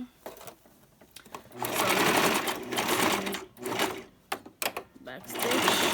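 Sewing machine stitching a closure wig, running in loud bursts of rapid whirring with short pauses in between, close up, while a person briefly speaks.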